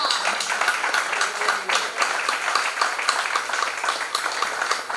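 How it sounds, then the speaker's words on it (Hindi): A crowd at a regional parent meeting claps loudly and continuously, a thick sustained applause with no letup. "जोर से तालियां"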